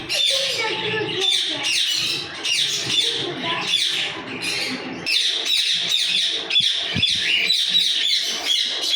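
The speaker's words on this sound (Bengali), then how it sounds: "এগুলো হচ্ছে ককাটেল পাখির বাচ্চা" Cockatiel chicks in cages at a bird farm keep up a steady chorus of sharp chirps and squawks, near and fairly loud, with someone talking intermittently over them.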